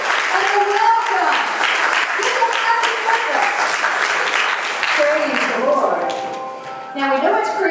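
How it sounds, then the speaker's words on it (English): A church congregation at a Christmas service claps warmly to welcome visitors. The applause is close and loud, with voices talking and calling out over it, and it dips briefly near the end before picking up again. "Can we get our visitors a hand clap and a welcome?"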